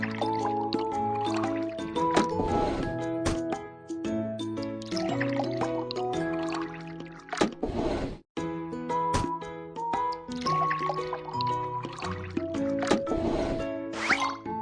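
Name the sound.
liquid pouring into a car tank in a kids' repair game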